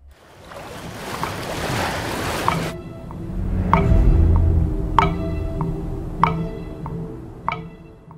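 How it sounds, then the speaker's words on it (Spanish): Large ocean waves from the Interstellar film soundtrack surge as a broad roaring wash that cuts off abruptly, giving way to a deep sustained rumble punctuated by loud, evenly spaced ticking beats. "En este planeta podemos observar grandes olas"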